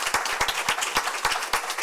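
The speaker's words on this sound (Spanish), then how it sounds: "Te llevas un gran aplauso." Audience applause at a conference on AI regulation and the rule of law, a brief burst of many hands clapping in dense, irregular claps at moderate loudness.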